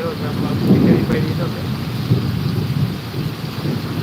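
Stormy weather with rain and gusting wind in Amreli, a steady heavy roar of rain and wind noise throughout with a low rumble swelling early on, and a voice faintly audible underneath.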